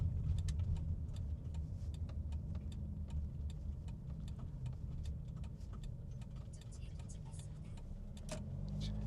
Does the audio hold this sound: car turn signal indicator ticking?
yes